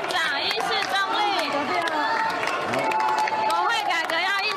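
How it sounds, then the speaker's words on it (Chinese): Legislators in a legislature chamber shout and jeer continuously, a dense overlapping clamor of raised voices filling the hall throughout. "绿委骂声没断过"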